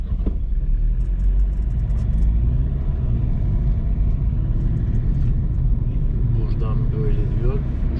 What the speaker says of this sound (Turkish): Yanıma da bir Aston Martin midir nedir bu ya? Uçak gibi bir araba geldi arkadaşlar